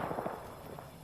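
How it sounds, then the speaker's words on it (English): Rapid bursts of sustained gunfire from the video game Apex Legends, a crackling, continuous exchange of shots at moderate distance, loudest at the start and holding steady through the moment. "I hear the sustained gunfire."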